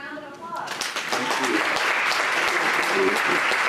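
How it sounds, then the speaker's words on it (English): Audience applause following a literary talk, starting after a brief voice and swelling into steady, dense clapping from a sizable crowd that carries on to the end. "Let's give Silas and Beth another round of"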